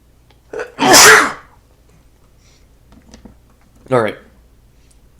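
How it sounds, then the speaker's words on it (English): A single loud, nearby human sneeze with a sharp burst, followed a few seconds later by a shorter vocal sound in an otherwise quiet room. "I need to sneeze."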